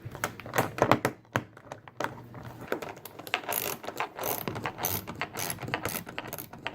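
A socket ratchet wrench clicks in quick irregular bursts while removing a bolt from the back door of a 1998-2006 Toyota Sienna, close by, with light knocks and metal handling between strokes.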